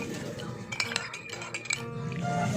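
A metal spoon clinks against a cup while stirring lemongrass, ginger and turmeric tea, with a few sharp taps in the middle over a quiet room background.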